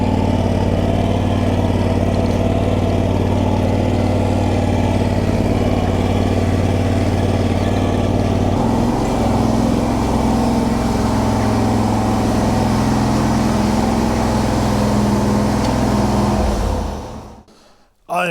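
A big garden tractor with a newly repowered engine running, a steady, loud mid-pitched engine drone that shifts slightly midway before cutting off abruptly near the end.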